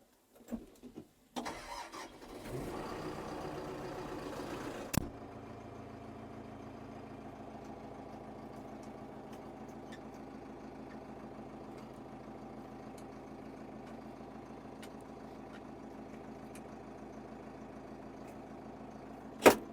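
A few clunks, then a DTZ 1204 tractor engine cranks and catches, settling into a steady, low idle that runs on alone with a sharp knock near the end.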